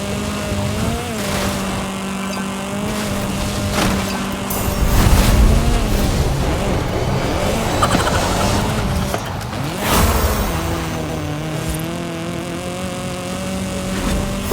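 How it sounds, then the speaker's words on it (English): Racing trucks, including an RJ Anderson Pro 2 truck, driving in a racing video game: loud, continuous engine drone with shifting pitch and surges of rumble, no talk. "a vehicle came around that started chasing me in a RJ Anderson Pro 2 truck"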